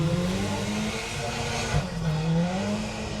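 A two-wheel-drive rally car with a 2.2 litre turbo Infinity engine roars past at a forest rally sprint, its engine note rising and falling through gear changes, loud and close, with no one speaking.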